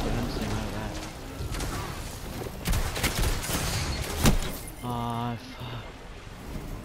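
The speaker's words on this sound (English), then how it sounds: "I missed my first shot." Gunfire in the Destiny Iron Banner multiplayer mode crackles in bursts of rapid shots, with sharp clinks and impacts, under continuous talking from a player.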